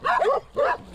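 Two quick barks from a dog, sharp and close, separated by a brief pause, with no speech over them.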